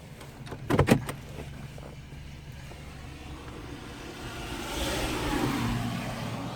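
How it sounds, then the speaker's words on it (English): A car passes along a quiet snow-covered residential street lined with trees, a soft swelling whoosh that rises and lingers over steady outdoor ambience, with a brief knocking burst near the start and no talking. "And here comes a car."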